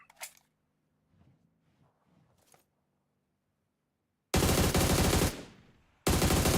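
Gunfire sprays in PUBG Mobile: a few faint scattered shots early, then a loud sustained burst of automatic fire lasting about a second that fades out, followed by another loud burst at the end, with no talk.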